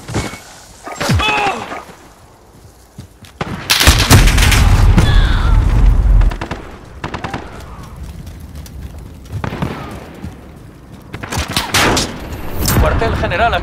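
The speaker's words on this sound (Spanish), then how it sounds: "¡Granada va!" A loud grenade blast and heavy gunfire in the video game Call of Duty: Modern Warfare: a booming multi-second explosion followed by bursts of close rifle fire and shouted voices between the shots.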